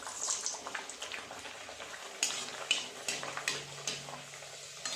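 Pea kachori fries in hot oil, with a soft bubbling sizzle and occasional sharp pops and utensil clicks up close. The sound is quiet and unbroken, with no voices.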